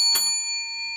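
A single bell is struck once to open an announcement, a sharp strike followed by a clear ringing tone that lingers and slowly fades.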